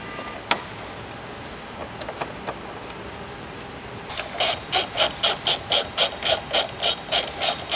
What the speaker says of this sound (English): We have 6 push clips we need to remove, as well as one 10mm bolt here in the center.